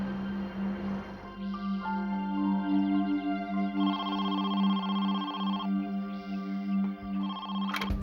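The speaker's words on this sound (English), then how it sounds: "Five days after Regina's disappearance, Carolyn received a phone call." A telephone rings with a bright electronic tone in a true crime reenactment, several repeating ring bursts over a sustained low hum, loud and close with no voices.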